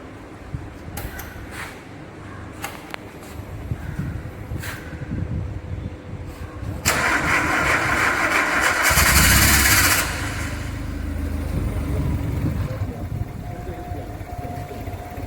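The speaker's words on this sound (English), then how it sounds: "Now the engine is started" Engine coupled to a hydraulic dynamometer, with cooling water for the jacket and dynamometer, cranking with a few sharp clatters before catching and settling into a loud, steady idle with a brief hissing burst midway.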